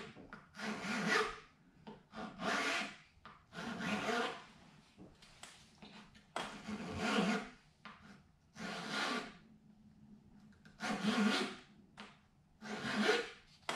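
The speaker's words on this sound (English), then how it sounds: "Here I am filing one of the X braces" A file rasps across a wooden X brace for a 000 guitar top in a series of slow, regular strokes, about seven rough scraping passes close up with short pauses between them.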